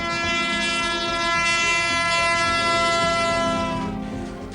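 A Pakistan Railways train passes close by with its horn sounding loudly and steadily throughout. The horn's sustained tone rides over the rumble of the train.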